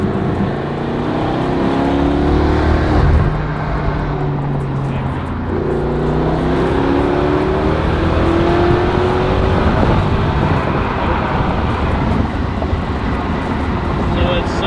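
A rebuilt, roughly 700-horsepower twin-turbo V8 in a BMW M5 revving at high RPM while driving in Mexico, with a loud, sustained engine roar and rising and falling pitch sweeps, plus road and wind noise and talk over it.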